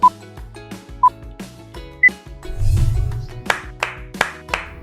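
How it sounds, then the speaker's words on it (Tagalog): Four sharp hand claps in quick succession near the end, following a few soft chime-like tones and a rough, gobbling noise, close and clear with no voices. "Apat na palakpak."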